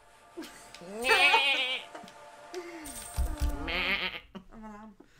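A few wavering sheep bleats from a video game, clear and close, with someone talking between them.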